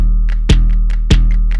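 UK hoodtrap hip-hop beat with its resonated 808 bass layer switched on, a thick sustained low rumble beneath two crisp snare hits and lighter percussion ticks, loud and steady.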